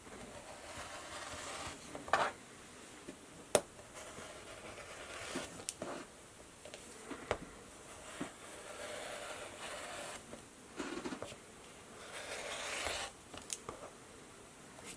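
Fabric being cut for a face mask: soft, uneven close rustles and scissor crunches in irregular bursts, quiet overall.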